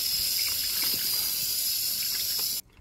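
Running water rinses a freshly cleaned red rockfish in a steady, close gush that cuts off abruptly near the end.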